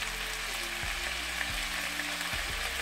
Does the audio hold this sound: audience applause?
no